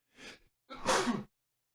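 A single close sneeze: a short sharp intake of breath, a brief pause, then a loud explosive burst.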